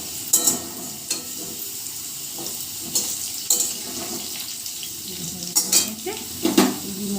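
Potatoes fry in a pan at a home kitchen stove, a steady soft sizzle punctuated by scraping stirs and clinks of the utensil against the metal, with no talking.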